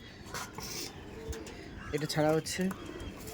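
A Malbahi tournament-quality pigeon coos in short, close, moderately loud bursts, with a person speaking briefly alongside the calls.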